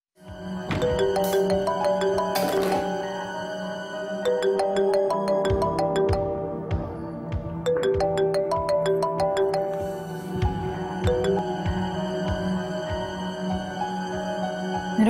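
A mobile phone ringtone plays its looping electronic melody over and over, loud and close, with the call going unanswered and no one speaking.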